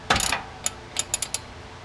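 A Polaris XP 1000 engine is turned over by hand, giving a short ratcheting burst followed by several sharp, isolated mechanical clicks from the cam chain side, close and fairly crisp.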